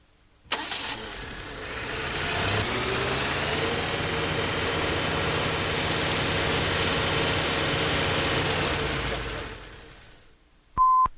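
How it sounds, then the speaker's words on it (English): A Fordson Major tractor engine cranks and catches, then runs steadily with its speed gradually rising, loud and close, before cutting off near the end with a brief electronic beep. "Start the engine and slowly increase the speed."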